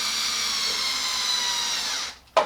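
A cordless screwdriver drives screws into the differential housing of a Hobao GTS RC car, one steady whirring run that stops abruptly, followed by a brief click or squeak.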